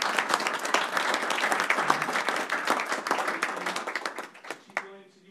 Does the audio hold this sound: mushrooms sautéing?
no